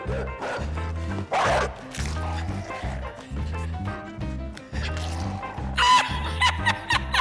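A dog in the video game INSIDE barks repeatedly in a steady, rhythmic series of loud, close woofs, set against a dark game soundscape.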